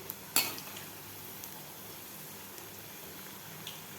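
Corn pakodas frying in hot oil are turned over in the pan, a single sharp utensil clink standing out over a soft, steady sizzle with a few faint ticks, no voices.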